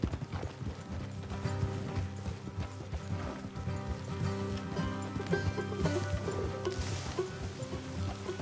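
Horses' hooves clip-clop at a steady trot in the Red Dead Redemption 2 game, with the rhythmic hoofbeats running continuously alongside faint tack and ambient noise, and an occasional whinny.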